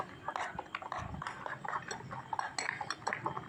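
A spoon clinks and scrapes against a bowl as egg omelette batter with green chilli and salt is mixed, with quick irregular taps and stirring close by at a low level.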